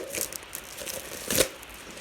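Crinkly tearing and rustling of packaging in short bursts, with one sharper rip near the end, close to the microphone.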